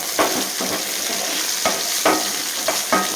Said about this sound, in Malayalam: നമുക്കിതൊരു ഉള്ളിക്കൊരു ബ്രൗൺ നിറമാകുന്നത് വരെ ഒന്ന് മൂപ്പിച്ചെടുക്കാം